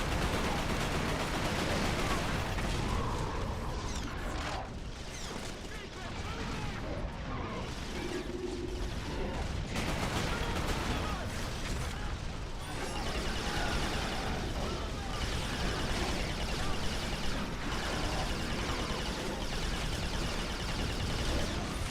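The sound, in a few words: gunfire in a video game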